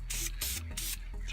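An aerosol spray can hisses in three bursts while coating refurbished Audi 2.7 turbo coolant lines, each burst a close, steady hiss separated by short pauses.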